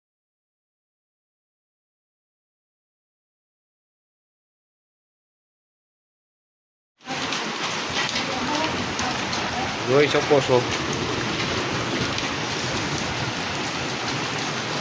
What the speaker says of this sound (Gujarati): કરાનો વરસાદ થઈ રહ્યો છે, જોઈ શકો.